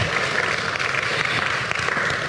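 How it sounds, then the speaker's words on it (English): A conference plenary audience applauds, a dense, steady wash of many hands clapping that carries loudly through the whole moment. "let's give him a round of applause"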